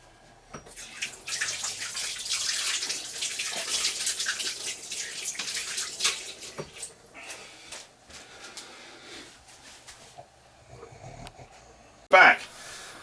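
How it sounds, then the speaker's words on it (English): Hands being washed under a running tap, with a steady rush of water and splashing for several seconds, close and moderate, then fading before a short sharp noise at the end; a person talks over part of it. "I just need to wash my hands quick"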